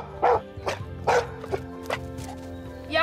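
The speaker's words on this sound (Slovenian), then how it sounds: "Pes nam z laježem pove, jaz sem našel osebo, ki jo iščemo." A search-and-rescue dog barks in a sharp run of loud, close woofs, three main barks spaced about half a second apart, then a couple of softer yips and a final bark.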